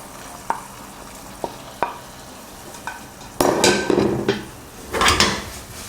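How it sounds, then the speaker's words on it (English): Tofu is added to mapo tofu sauce in a pan: a few sharp utensil taps come first, then bursts of bubbling sizzle as the pieces hit the hot sauce. "Add the tofu carefully,"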